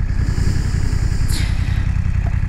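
A Honda CBR motorcycle on a ride after a racetrack crash, its engine a steady, loud low rumble throughout with wind noise and a brief higher whoosh partway through.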